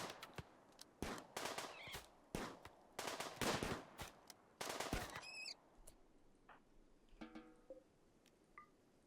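Automatic gunfire bursts in the Rimworld video game, loud and rapid, repeating in several clusters over the first half, then fading to scattered quieter game effects and faint chirps.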